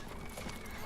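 Soft, muffled clip-clop of a horse's hooves from Lord of the Rings Online, faint and steady beneath a broad, noisy game ambience.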